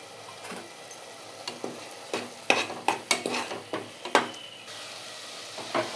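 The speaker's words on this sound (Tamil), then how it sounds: "இப்போ இந்த டைமில் நம்ம இஞ்சி பூண்டு பேஸ்ட்டை போட்டுப்போம். அதையும் நல்லா ஒரு வதக்கிக்கலாம்." Ginger garlic paste sautéing in a pan for a cauliflower kurma, a soft low sizzle broken by repeated sharp scraping and tapping strokes of a spoon or spatula against the pan, with no talk.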